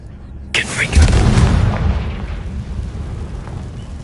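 A Confringo fire spell blasts in Hogwarts Legacy, a sudden loud explosion with a deep rumbling boom that hits hard then fades into a lingering roar.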